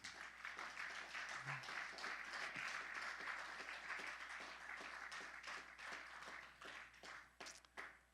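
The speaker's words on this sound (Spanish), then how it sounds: "Un aplauso al Señor" Church congregation applauds during a Spanish-language service, a faint, distant roll of many hands that thins toward the end into scattered, separate claps.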